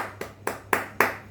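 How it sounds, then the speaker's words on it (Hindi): Four separate hand claps ring out in a steady rhythm, growing slightly louder each time, in a quiet teaching room with a faint hum beneath. "ताली भाई"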